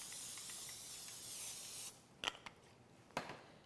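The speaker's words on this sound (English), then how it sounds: "I'm going to spray the grill pan with a little bit of nonstick spray" A can of nonstick cooking spray hisses onto a grill pan in one continuous faint burst lasting about two seconds, followed by a few soft clicks and rustles.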